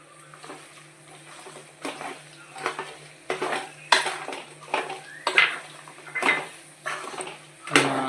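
A spoon scrapes and clanks against a pot as masala is stirred into Andhra-style chicken pickle, in a series of loud, irregular metallic strokes close by, with no talk.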